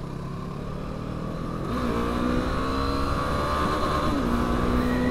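A Brixton Crossfire 500 motorcycle engine revs hard, rising to a sustained howl at the rev limiter near 9000 rpm, briefly dipping and surging back. It is loud and close, with no talk.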